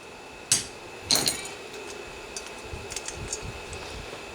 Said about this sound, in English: Now we'll go ahead and knock this float pin out of here.